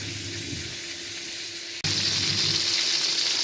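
Fermented fish (pla som, Yasothon style) fries in a pan with a loud, steady sizzle and crackle that briefly dips and then resumes even louder, with no talking.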